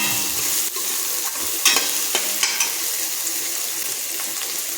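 Onions dropped into hot oil with cinnamon, bay leaf and cumin, giving a steady close sizzle with a few sharp spoon scrapes and clacks as the pan is stirred.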